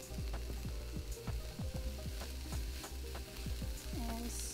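Chopped cabbage with a little salt sautéing in a pan makes a loud, steady sizzle, with repeated scraping strokes of a spatula stirring it at a quick, uneven rhythm.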